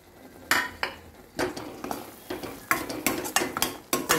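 A ginger-garlic-onion paste with green chillies frying in oil in a pan, with sharp, repeated scrapes and clinks of a spoon stirring against the metal over a low sizzle, coming in uneven bursts.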